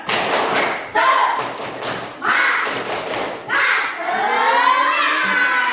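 Students in an Indonesian Islamic education class perform a tepuk semangat spirit clap: loud bursts of rhythmic clapping and thumps, joined by children's voices shouting and chanting along.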